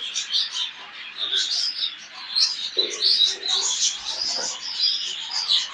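Show jumbo budgerigars and their chicks in a nest box give steady, busy high chirping and twittering throughout, moderately close, with faint voices now and then.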